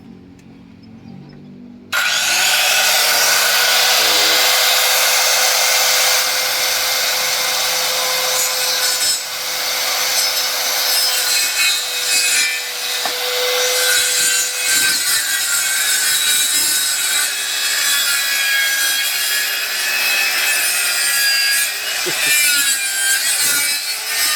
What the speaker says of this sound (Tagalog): Tapos sa kabila, lagariin mo na lang.